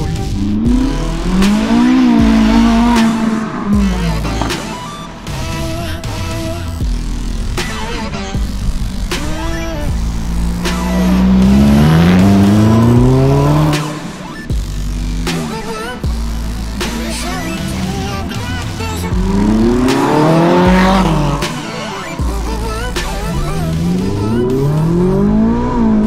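A Ferrari 458 Italia's naturally aspirated engine screams through the gears while driving, climbing toward 9000 rpm in repeated rising revs with shifts between them, loud and close from inside the car.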